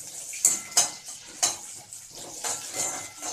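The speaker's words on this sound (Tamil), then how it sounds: "கருவேப்பிலை, வெங்காயம் போட்டு ஒரு 2 நிமிஷம் நல்லா வதக்கிக்கலாம்" Onions and curry leaves sizzle softly in a pan while a utensil clinks and scrapes against the metal several times, irregular stirring strokes close by.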